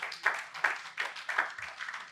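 Steady, rhythmic clapping from an audience at a live event, a modest crowd applauding at moderate volume with regular beats.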